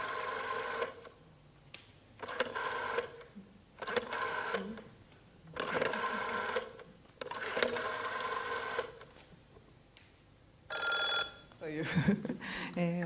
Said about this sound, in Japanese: 電話ですね、これで本当に電話、黒電話を使ってたらしいです